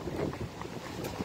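Gusty wind rumbles against the microphone in a brief, low buffeting burst outdoors.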